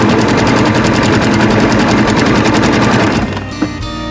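A sewing machine with a quarter-inch foot stitches folded binding strips onto a quilt, a loud, fast, even rattling run of stitches that stops near the end, followed by a short click.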